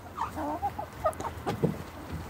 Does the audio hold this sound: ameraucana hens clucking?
yes